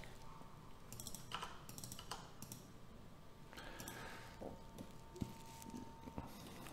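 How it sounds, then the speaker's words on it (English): Keys clatter on a computer keyboard in short bursts of quick typing with pauses between them, recorded close and fairly quiet while text is entered during PCB layout work in KiCad. "we're going to type something here"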